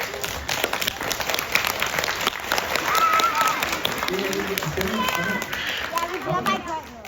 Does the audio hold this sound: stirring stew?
no